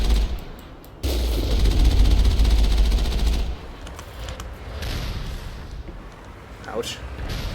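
Geth turret in the Mass Effect video game firing a sustained, loud burst of rapid automatic shots for a few seconds, then quieter scattered fire and game noise, with someone talking over it.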